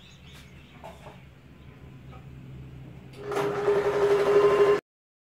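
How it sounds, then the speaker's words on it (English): Sewing machine stitching knit fabric to main fabric, a faint quiet hum at first, then a loud steady motor whir with rapid needle chatter for about a second and a half before stopping abruptly. "With a seam allowance of 1/4 inch, I sew the two pieces together."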